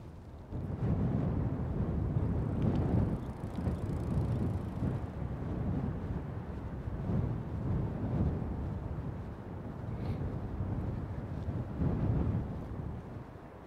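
Breezy wind gusts across an open city park with windmills, buffeting the microphone in low, rumbling swells that rise and fall for several seconds at a time, with no talking.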